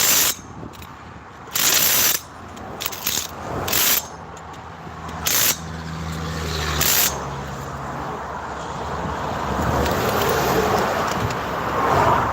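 A ratchet tightens down a bolt in several short bursts of rapid clicking separated by pauses. Later comes a steadier mechanical and hissing background.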